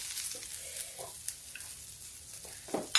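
Cabbage and carrot cook in a pan over a low gas flame as spices are added, giving a soft, steady sizzle broken by a few light clinks and scrapes of stirring.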